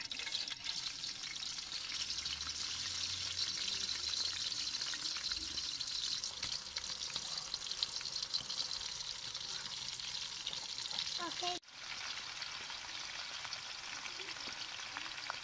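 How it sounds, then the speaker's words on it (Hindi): Raw banana slices frying in hot oil, a steady close bubbling sizzle that runs without pause, with a brief dip near the end. "ऑयल गरम हो गया, अभी डालेंगे चिप्स।"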